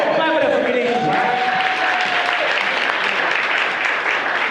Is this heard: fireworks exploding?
no